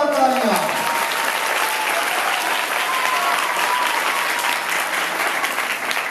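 Loud, sustained clapping from a church congregation fills the whole stretch as a dense, even roar, with a few voices calling out faintly underneath.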